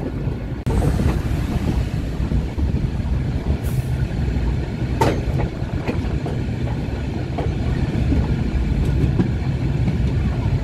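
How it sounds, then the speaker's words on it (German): The narrow-gauge locomotive 99 331 "Molli" runs on Borkum island, a loud steady rumble of the moving train with wind buffeting the microphone and a few brief higher squeals or clanks along the way. "Auf der Fahrt zum J-Bahn-Lübenweg passiert der Zug zahlreiche Bahnübergänge"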